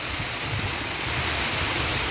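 A river stream flowing down from the Curug Benawa waterfall, a steady, dense rush of water heard up close with no voices.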